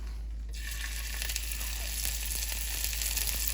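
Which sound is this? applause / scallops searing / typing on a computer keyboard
scallops searing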